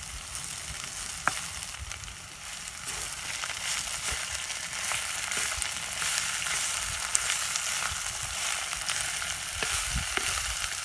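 Raw banana pieces mixed with ground masala fry in a pan over a village cooking fire, giving a steady loud sizzle and crackle with occasional soft scrapes and taps of the stirring spoon, no talking.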